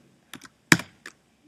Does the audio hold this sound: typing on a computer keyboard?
yes